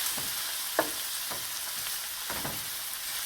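Onions and celery sweating in a pan, a soft even sizzle with a handful of light stirring scrapes and one sharp tap, no talk.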